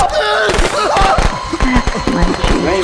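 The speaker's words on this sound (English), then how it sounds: "You ain't getting me with them firecrackers." Quick bursts of sharp popping firecracker explosions in the game Friday the 13th crackle in rapid succession, loud and close, with a voice talking over them.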